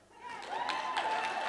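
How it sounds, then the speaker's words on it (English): A church congregation at a sermon breaks into applause, a soft, scattered clapping that swells over the first half second and then continues steadily at a moderate level, with a voice faintly audible beneath it. "you can clap."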